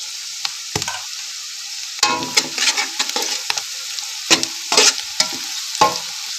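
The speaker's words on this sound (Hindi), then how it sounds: "इसको भी 1 मिनट के लिए फ्राई कर लेना है" Finely chopped green chillies are stir-fried for Chinese rice, with loud, close bursts of sizzling and metal scraping against the pan, tossed in irregular strokes over a quieter background hiss, and no speech.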